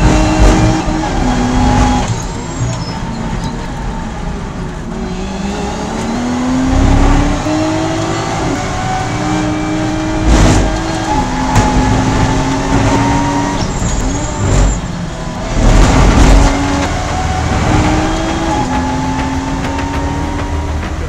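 Porsche race cars roar past during a circuit race, engines rising and falling in pitch as several cars pass, with loud surges of nearby traffic over steady track noise.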